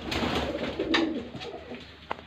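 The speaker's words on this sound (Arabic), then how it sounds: "كمان مربيه حمام" Pigeons in a rooftop coop give soft, low cooing calls over a steady background, with a couple of brief sharp sounds near the end.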